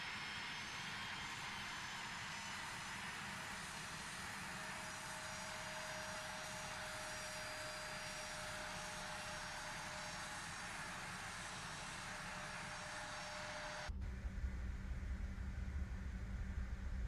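A flight simulator aircraft engine roars in a steady, loud drone during takeoff, holding constant before shifting abruptly to a lower, rumbling tone near the end.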